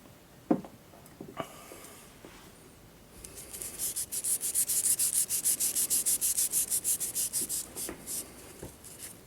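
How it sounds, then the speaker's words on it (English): Rubbing with ultra high grit sandpaper during a Honda Accord combo switch repair, starting with a few scattered taps and scrapes, then settling into a quick rhythmic run of back-and-forth strokes, close and fairly loud. "we'll finish off with that"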